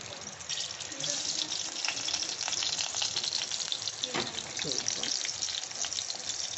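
Egg korma ingredients frying in white oil in a small wok, giving a continuous sizzling hiss with scattered crackles and the scrape of stirring.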